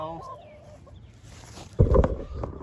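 Chickens cluck nearby, a few short calls at first, then a louder burst of clucking and scuffling toward the end.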